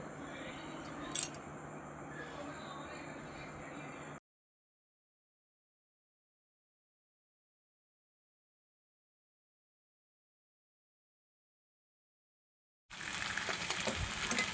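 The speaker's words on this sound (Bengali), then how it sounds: "এবার চিকেনের পিসগুলো ভেজে নেব প্রথমে ঢাকা দিয়ে দিয়ে ভাজবো" Chicken pieces fry in a covered pan, a low steady sizzle with a couple of lid or utensil clinks, then a long silence before the frying hiss returns louder.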